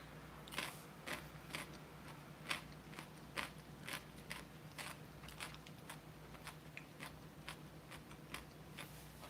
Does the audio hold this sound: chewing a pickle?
yes